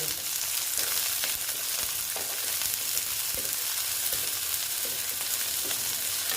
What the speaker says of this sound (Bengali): এটা আবার আমি খুব ভালো মতো ভেজে নেব